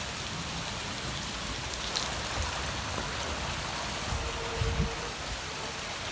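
Heavy rain pours down over the main bazaar of Mushtaq Colony in Kasur, a dense, steady hiss of drops hitting the ground and puddles without a break, with no voices heard.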